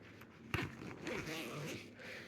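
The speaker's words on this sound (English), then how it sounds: "you just unzip on either side" A fabric zipper is pulled open on the side of a TaylenGrow baby bassinet with wheels, a quiet close ripping zip that starts with a sharp tug and runs for about a second and a half.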